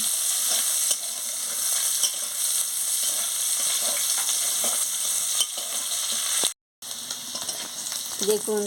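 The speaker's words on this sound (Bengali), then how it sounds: "পেঁয়াজটা এবারে ভালো করে ভাজা হয়ে গেছে লাল লাল হয়ে" Onions sizzling in a pan as they fry to a reddish brown, a dense, bright, continuous crackle close to the mic with occasional stirring scrapes and a brief dropout near the end.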